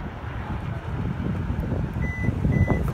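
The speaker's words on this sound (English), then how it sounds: "All you got to do is hold this button until it beeps." Short electronic beeps from a Hyundai's electronic lift gate as its opening height is set, two brief tones near the end over steady wind and outdoor rumble.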